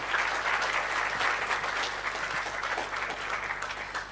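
A continuous round of applause from an audience at an incubator demo day honoring six graduating startup teams, even and sustained throughout with no talking.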